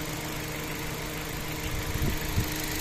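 A 2011 Hyundai Accent engine idles steadily and quietly up close, a low even hum with a couple of slightly louder bumps near the end, no voices.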